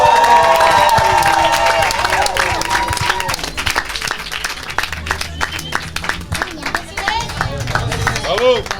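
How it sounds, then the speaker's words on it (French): Festival audience applauding and cheering, a dense crowd roar that is loud at the start and gradually thins into scattered clapping, with music or crowd noise continuing underneath. "On peut l'applaudir bien fort."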